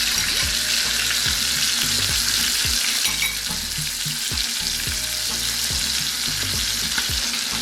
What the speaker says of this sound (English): So now you want to dissolve that brown sugar into the balsamic vinegar.